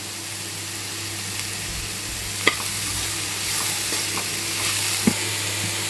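Onions sizzle and fry in a pan for onion chutney, a steady close crackle with a few sharp clicks as the spoon stirs, no talk over it.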